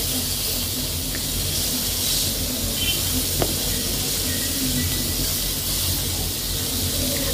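A beef steak sizzles in a hot pan just after being flipped, a steady close hiss that holds evenly with one brief knock partway through, no talking.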